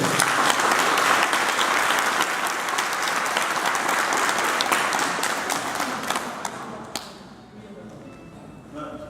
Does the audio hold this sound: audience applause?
yes